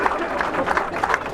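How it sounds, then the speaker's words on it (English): A crowd at a reception in the House of Commons applauding, a dense, steady clatter of clapping hands that continues without a break, with some talk mixed in. "Let us give them a round of applause"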